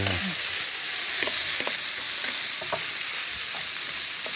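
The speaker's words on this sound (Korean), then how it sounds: "휘리릭 버무려 줄게요" Squid pieces tossed with sauce in a hot pan over high heat crackle in a constant bright sizzle, with soft scraping stirs and light knocks of the utensil against the pan.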